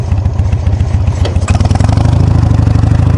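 A stock motorcycle engine runs loud and close throughout, with a steady, rumbling low-frequency pulse. Partway through it rises to a denser, faster firing rhythm, and no one talks over it.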